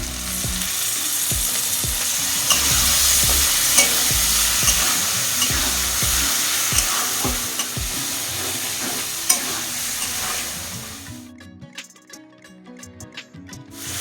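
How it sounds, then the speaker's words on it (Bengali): Spice paste frying with cumin paste, salt and a splash of water, a steady bright sizzle with regular spatula scrapes and taps against the pan, fading near the end into a few scattered clatters. "জিরা বাটা এক চামচ স্বাদ মতো লবণ সামান্য একটু জল দিয়ে মশলাটা কষাই নিচ্ছি"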